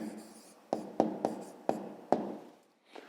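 A pen writing an answer by hand for a fifth-grade maths exercise, a string of short, crisp strokes and taps close to the mic, about six distinct marks in quick succession.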